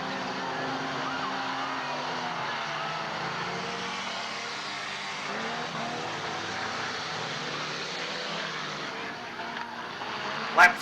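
1960s race cars, including a Mark II Jaguar and Holdens, lapping Warwick Farm circuit, a continuous roar of several engines with shifting pitch, under race commentary.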